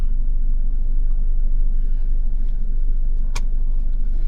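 Steady, loud, rumbling drone of a Toyota Hilux pickup engine crawling in low-range L4 four-wheel drive at restricted speed, heard from inside the cab, with a brief clunk near the end and no talking.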